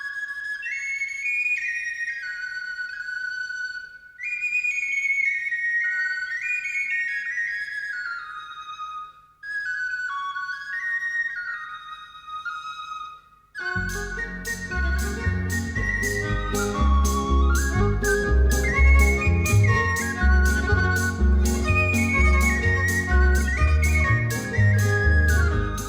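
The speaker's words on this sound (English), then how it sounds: "the old king soon heard the pelican bird singing sweetly" A sweet birdlike whistling melody for a pelican bird in a story, three separate warbling phrases with pauses, then a fuller tune over a rhythmic musical backing that carries on to the end.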